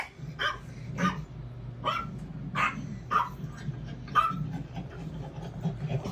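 A dog barks repeatedly in short, sharp bursts roughly every half second to second, moderately near, over a low steady background hum, with occasional yips between.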